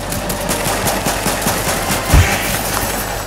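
Fortnite gunfire rattles in quick bursts of steady automatic shots, loud and continuous, with one heavier thump partway through and no speech.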